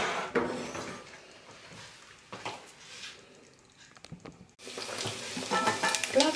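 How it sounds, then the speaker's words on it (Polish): Swiss-style potato pancake batter sizzles as it is spread into hot fat in a pan, with bursts of frying hiss, soft scraping, and a louder, denser crackle building toward the end. "rozprowadzamy masę ziemniaczaną na rozgrzany tłuszcz i smażymy z jednej i z drugiej strony."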